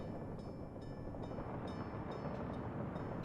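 A train rolls through a city in the Workers and Resources video game with a steady, dense rumble and faint rhythmic clacks repeating about every half second, loud and continuous.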